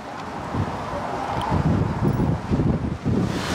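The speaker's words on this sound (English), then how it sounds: "It's a bit windy today, by the way." Wind blowing hard past a narrowboat heading into Bath, a loud rumbling gusting roar buffeting the microphone in uneven surges.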